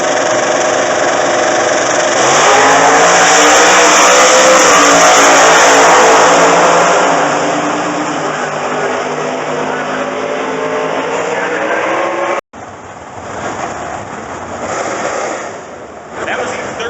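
A 1968 NHRA Super Stock drag car with a late-model 5.7-liter Hemi makes a loud, sustained engine roar as it launches and accelerates at a drag strip, rising in pitch and then cutting off abruptly, with crowd and track ambience afterward.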